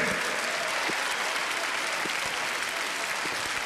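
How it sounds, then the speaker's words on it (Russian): Dense, steady audience applause fills a circus arena, loud and continuous throughout with no break or voices on top. "Ваши аплодисменты, друзья."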